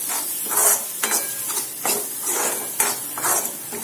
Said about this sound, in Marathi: आता याला आपण छान मिक्स करून घेऊया।